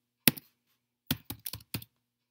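Computer keyboard being typed on nearby, one isolated keystroke followed after a pause by a quick cluster of four or five crisp clicks in a quiet room.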